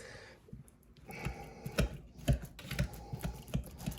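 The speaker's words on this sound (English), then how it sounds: "I'm gonna mash these with the whisk." Bananas are mashed with a whisk in a bowl for banana bread, giving a series of irregular wet clacks and squelching taps, close and moderately loud, with short pauses between strokes.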